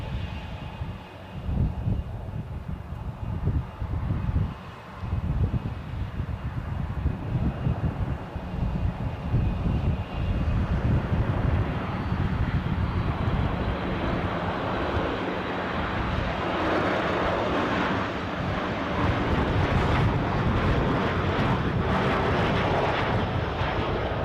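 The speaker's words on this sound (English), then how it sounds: "Oh, Ryanair inbound." Jet engine roar from a Ryanair airliner inbound to Edinburgh airport builds from gusty wind buffeting into a loud, sustained broadband rush that stays strong to the end, with no voices.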